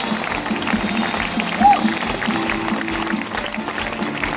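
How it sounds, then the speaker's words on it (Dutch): An open-air quarry theatre audience gives sustained applause, a steady wash of clapping heard at moderate distance, with no break across the whole stretch. "Een heel groot applaus voor onze gastheer Sibelco."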